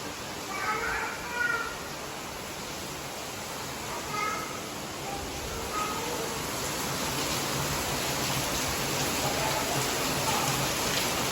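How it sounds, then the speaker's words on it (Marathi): Steady heavy rain hisses throughout, a dense broadband wash that builds slightly louder toward the end, with a few faint meow-like tones early on. "पाऊस कंटिन्यू वाढला आहे"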